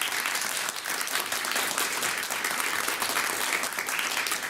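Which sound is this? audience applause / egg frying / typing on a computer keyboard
audience applause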